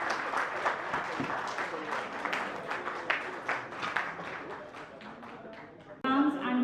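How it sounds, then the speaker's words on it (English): An audience at the DMECA NCR Fest 2024 alumni event applauds, a dense steady wash of clapping that fills the room for several seconds before cutting abruptly to a different, louder sound at the end. "Big round of applause, everybody."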